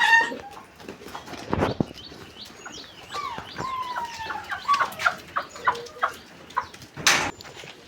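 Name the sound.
rooster clucking on a farm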